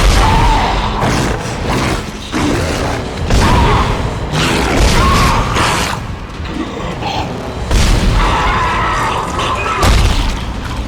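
A fan blade crashing in a vent in the video game Dead Space: loud, repeated booming crashes and mechanical clanks over a dense, rumbling background, with heavy impacts recurring across the stretch.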